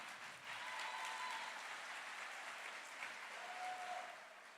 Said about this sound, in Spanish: Fuerte nuevamente el aplauso para Amacay